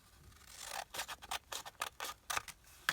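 Scissors cut through a large paper envelope in a rapid series of close, crisp snips, about a dozen short strokes in a quick uneven rhythm, quiet and with no talk.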